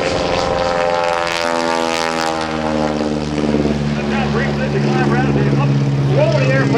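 A stock Stearman biplane's engine drones at an airshow during aerobatics, a loud propeller tone rising and falling in pitch as it maneuvers, while an announcer talks over it.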